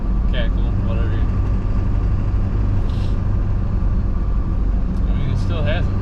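Ford 7.3 Powerstroke diesel V8 in a pickup, idling or cruising with a steady low rumble and mechanical cackle, loud and continuous throughout with faint other sounds on top.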